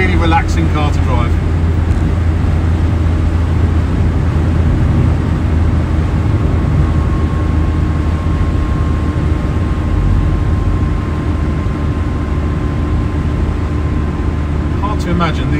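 A 1967 Citroen DS 21 Pallas on the move, a steady low engine and road rumble running throughout at an even level, with someone talking over it.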